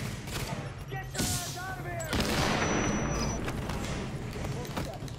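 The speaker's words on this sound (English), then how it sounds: "Keep firing at him." Sustained gunfire in the video game Tom Clancy's The Division, with rapid automatic bursts and shots running throughout, loud and close, with players talking over the shooting.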